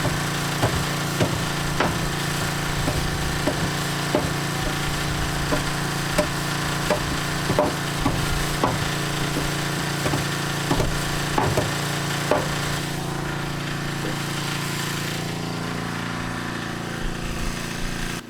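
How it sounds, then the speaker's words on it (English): Wood studs hand-nailed with a hammer while framing at an old cabin, steady sharp knocks in a quick irregular rhythm over a constant engine hum, easing off toward the end. "we're just hand nailing for now to keep us busy"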